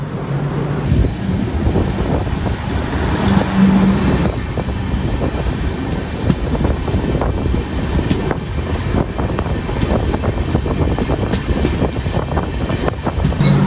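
Venad Express running on broad-gauge rails, heard from inside a second-sitting coach: a loud, continuous rumble of wheels with repeated clickety-clack rail-joint beats and wind buffeting, no voices.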